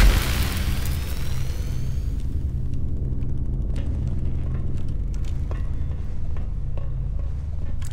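A grenade blast in System Shock Remastered, a sharp loud boom up front that decays into a long low rumbling tail, with no talking.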